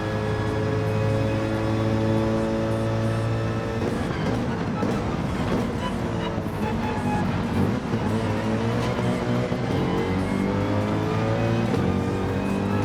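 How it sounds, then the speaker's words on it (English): Race car engine in Gran Turismo 7 screaming at high revs, steady and loud throughout, pitch sweeping up and down as gears change, with faint tire noise beneath. "Lost a little time there from over revving the engine."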